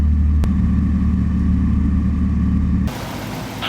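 A Murphy Rebel light aircraft cruises over Parry Sound Harbor, its piston engine a steady, heavy low drone heard from inside the cabin, which cuts abruptly to a thinner hiss near the end.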